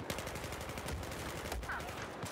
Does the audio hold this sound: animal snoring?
no